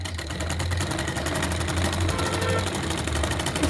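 A sewing machine running steadily while stitching the finishing seam of a frock made from an old sari, producing a fast, even mechanical whirr and rapid needle chatter that holds for several seconds without pause.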